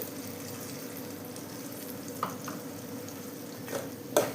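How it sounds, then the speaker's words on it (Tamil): A masala paste for fish curry of coconut, chili powder, onion, ginger and garlic is sautéed in a pan. A constant close sizzle runs throughout, with a few sharp scrapes and clinks of a spoon stirring near the end. "இதையும் இதிலேயே சேர்த்து நல்லா வதக்கணும்"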